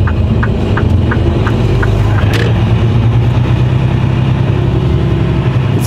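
A truck's engine runs steadily and close as it pulls away, a constant low rumble with a brief higher whine partway through, no voices.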